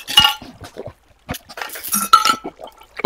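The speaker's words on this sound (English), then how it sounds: "I heard a water bucket sploosh." Minecraft water bucket splashes and clinking game sounds, short bursts scattered among pauses, fairly close.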